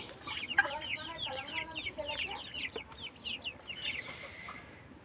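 Tiger chickens kept on a poultry farm cluck in a run of short, repeated calls, several birds overlapping at close to moderate distance against quiet background noise.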